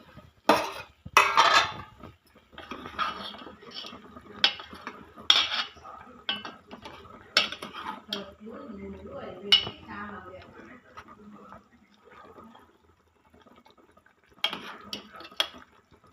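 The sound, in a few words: pot lid lifted and utensils clinking while curry cooks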